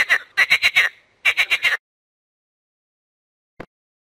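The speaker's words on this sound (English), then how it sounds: "Frog." A frog croaks in two quick bursts of about five and four rhythmic, raspy pulses, loud and close, then silence with one short faint click near the end.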